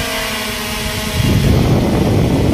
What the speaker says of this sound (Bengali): এই ফ্যান চলতেছে, আবার নিচে কুলিং ফ্যান